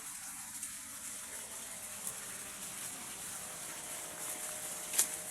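Steady broadband rush of water flowing from a solar-powered pump, a constant outdoor gush running evenly throughout with a brief splash-like burst near the end.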